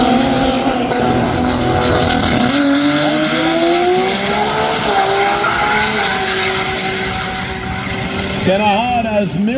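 A 2200 whp fourth-generation Toyota Supra roars through a high-speed roll race at 206 mph, its engine note climbing steadily and loudly with a brief tire squeal near the end, while an announcer talks over it.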